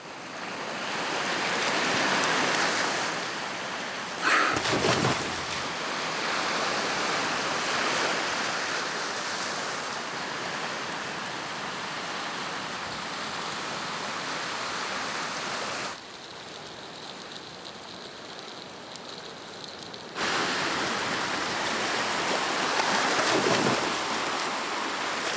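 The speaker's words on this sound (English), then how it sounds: "The strength of the currents passing through Rangiroa is phenomenal. No man dares surf these waves." Strong ocean currents and heavy surf at Rangiroa roar in a continuous loud rush of crashing water, with brief swells and one quieter stretch before the surge returns.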